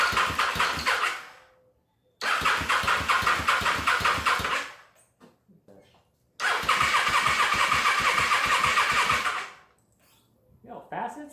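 A 1996 Kawasaki Vulcan 750 motorcycle engine, freshly rebuilt, cranks and fires in two loud, close runs of rapid chugging of roughly two and three seconds each, separated by silence and quiet talk.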